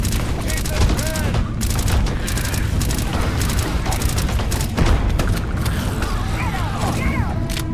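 Gunfire in Starfield during a Crimson Fleet fight, with dense bursts of rapid shots, booms and mechanical clatter running continuously under shouted voices.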